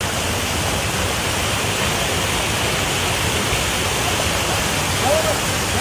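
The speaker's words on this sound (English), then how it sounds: "Heavy rainfall that affected the Kuşadası and Söke districts of Aydın in the morning hours caused floods and water overflows in many areas." Flash flood water rushes through streets in the Kuşadası and Söke districts of Aydın, Turkey, after heavy morning rainfall, a loud, dense, continuous roar of flowing water filling the whole scene without a break.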